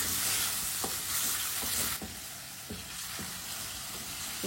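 Meat sizzles steadily in a hot pan while a spoon stirs it, with scraping knocks at irregular intervals over the constant close frying hiss.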